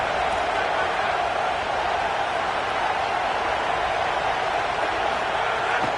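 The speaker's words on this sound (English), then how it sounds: "how nice is it to have the home crowd going absolutely bananas?" A home crowd at a college football game roars loudly and steadily in a dense, unbroken wall of cheering, with commentators talking over it.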